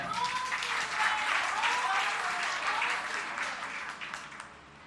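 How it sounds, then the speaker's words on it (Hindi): Audience at a Jain monk's religious discourse gathering clapping together, a dense, sustained round of applause that holds steady and then gradually thins out toward the end. "एक बार जोरदार तालियां"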